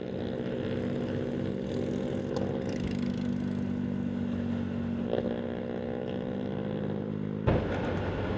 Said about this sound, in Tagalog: Sarap magmotor dito.